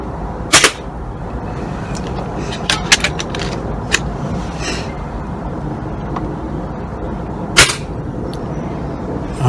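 Air rifle shots fired at a target outdoors, a few sharp, isolated cracks spaced several seconds apart over a quiet background, fairly close.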